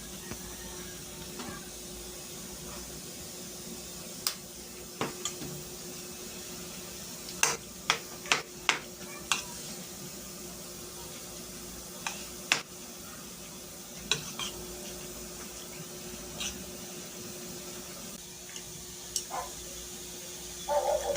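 A spoon mixes rice with roasted seaweed, tuna, mayonnaise and a little salt. Soft scraping and occasional sharp clicks against the bowl come over a faint background hiss, with no talking.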